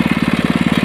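Honda 80cc engine on a single-wheel belt-drive tiller running close by, a loud, rapid, even putter of regular firing pulses with no voices.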